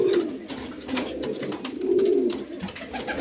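Pigeons in a loft give low, rolling coos in repeated swells, near and moderately loud, with faint rustling and wing movement between calls and no talk.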